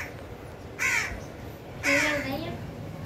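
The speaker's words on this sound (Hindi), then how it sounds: "भयंकर लड़ाई हो रही है यहाँ पे कौओं की" Crows caw in two loud harsh bursts during a fight, each call sitting clearly above steady outdoor background noise.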